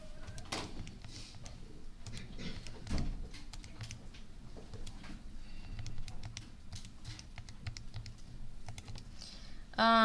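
Rapid keyboard typing clatters continuously, with irregular bursts of key clicks and a few louder keystrokes, close by in a quiet room.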